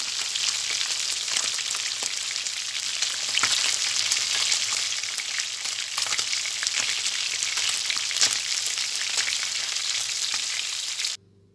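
Trout sizzles steadily in hot oil, a dense crackling hiss with scattered pops, continuing close and even before cutting off abruptly at the end.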